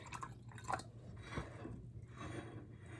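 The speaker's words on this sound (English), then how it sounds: "I'm just going to pour that back into here." Filtered cornstarch solution is poured back into a container during an iodine clock reaction experiment, a faint, steady liquid trickle with a few soft drips and no voices.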